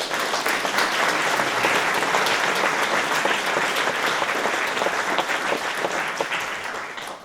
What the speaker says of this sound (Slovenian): En lep aplavz res vsem.